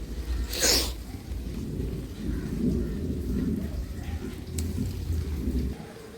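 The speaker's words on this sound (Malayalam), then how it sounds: "മഴ ഇങ്ങനെ" Steady rain pours down in a dense, continuous hiss, with a low rumble underneath and a sharp burst of noise early on.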